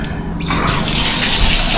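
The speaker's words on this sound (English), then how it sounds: "And the water flow is good." Water running from a tap in a hotel bathroom sink, a steady rushing splash that grows fuller as the flow hits the basin, close and fairly loud.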